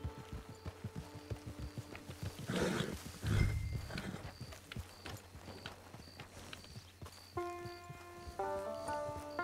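Horse hooves clip-clop at a walking rhythm in Red Dead Online, with a brief snort or neigh and background game tones, fairly quiet and close.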